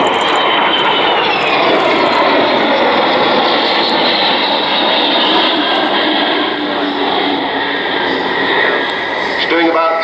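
Avro Vulcan XH558 bomber flying past at about 345 mph during an airshow flypast at Dunsfold, its jet engines giving a loud, steady, broadband roar throughout, with a commentator talking over it.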